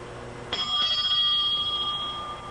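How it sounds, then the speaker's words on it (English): A bell at the door of the instructors' wing on McGuire Air Force Base, New Jersey, gives one bright electric ring that sustains steadily for about two seconds before cutting off, loud and close, with no talking. "Please ring the bell gently when waiting for permission to enter."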